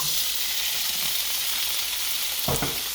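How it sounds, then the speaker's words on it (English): Onions and mushrooms sizzle steadily in a hot pan as part of a Szechuan chicken stir fry, a constant broadband fry hiss with a brief louder clatter near the end. "So here go the onions and mushrooms."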